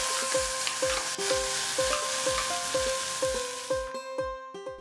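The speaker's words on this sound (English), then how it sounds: "Add 2 chopped tomatoes." Two chopped tomatoes go into a pan with ginger garlic paste for a palak chicken curry, frying with a soft sizzle while a spoon scrapes and knocks in a steady rhythm. Sustained musical tones play underneath.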